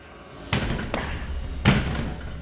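Bodies crash against a door in a few heavy thuds, two loud bangs about a second apart with a weaker knock between, against a dull background.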